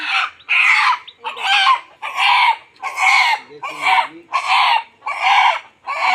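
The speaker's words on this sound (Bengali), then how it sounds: "এই দেখো সকালবেলা মুরগি ছেড়ে দিয়েছি" Chickens let out in the morning call close by, a series of about eight loud, evenly spaced clucking and crowing bursts in a steady rhythm, with no talking.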